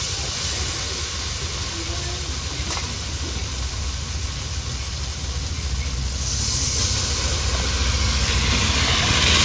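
Water hits hot spiced oil in a pan for a fish curry, a loud, steady close hiss and bubbling sizzle that holds throughout and grows slightly toward the end, with no talk.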